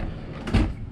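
A cabinet door or pull-out drawer in the kitchen of a 2024 Jayco North Point 382FLRB fifth-wheel RV opening with a single short, soft thud close to the microphone.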